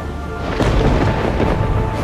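Storm at sea around a wooden replica canal schooner: a dense, continuous roar of rumbling thunder and crashing waves, loud and unbroken, swelling slightly midway, with no voices.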